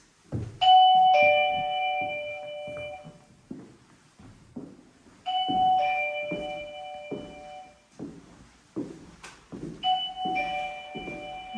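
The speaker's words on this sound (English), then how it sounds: "That ding dong is really loud, so if it did go off, you would hear it downstairs." A loud two-tone ding-dong doorbell chime inside an old boarding school building, ringing three times in a row at even intervals, clear and close, with faint footsteps and shuffling between the chimes.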